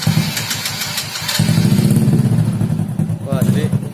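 A motorcycle engine with WD40 sprayed into the carburetor cranks but does not start, giving a loud, steady, throbbing starter and engine churn that runs for a few seconds with a speaking voice over it.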